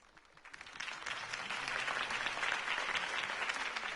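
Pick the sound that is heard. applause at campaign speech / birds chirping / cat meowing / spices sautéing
applause at campaign speech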